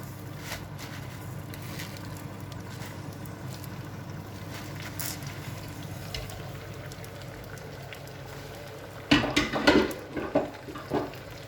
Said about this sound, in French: On va les ajouter donc dans notre poêle avec l'huile d'olive.